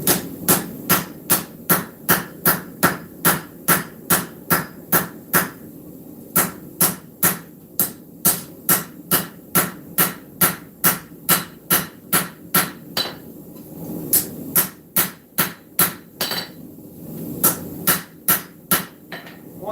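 A hammer forges a blade point on an anvil, striking in a fast, steady rhythm of sharp metallic blows with a few short pauses between runs. The strikes are close and prominent over a low background hum.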